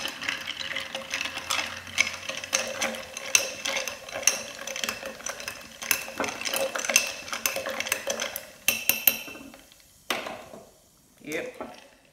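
A spoon stirs a homemade mocktail drink, rapid rattling clinks and scrapes repeating steadily for about nine seconds before trailing into a few faint taps and a pause, with occasional speech nearby.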